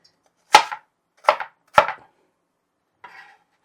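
Knife chopping an ingredient into little squares for tuna salad on a board, three sharp close cuts in quick succession followed by a softer fourth after a pause, with no talking.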